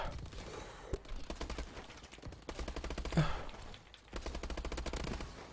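Repeated automatic gunfire in a shooter video game gunfight, bursts of rattling shots recurring throughout at moderate level with brief pauses between volleys.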